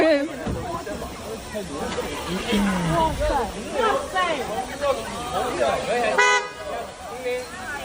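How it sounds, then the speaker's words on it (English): A car horn toots a few times amid traffic noise and background chatter at a disaster scene, with people talking over it. "It's like someone's behind him honking."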